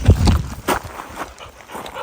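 Outdoors on a country road, a dog makes a few short, close barks and whimpering sounds, loudest at the start and then fading to quieter shuffling.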